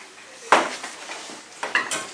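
Honey and herbs mixed into yogurt for a dill dip, a few light clinks and taps of a utensil against a bowl, one sharper knock then softer scrapes, close and brief.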